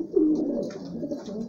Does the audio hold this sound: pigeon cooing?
yes